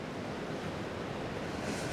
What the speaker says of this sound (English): oh, it's the waves